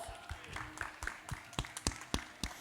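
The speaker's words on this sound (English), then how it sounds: "Give them a round of applause." Sparse applause for guests at a live panel event: a handful of separate, fairly close claps in an irregular rhythm rather than full crowd applause, fairly quiet.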